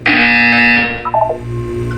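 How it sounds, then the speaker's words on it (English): A loud electronic buzzer blares in the Portal 2 video game, a harsh sustained tone that fades after about a second into softer warbling electronic tones. "You will hear a buzzer."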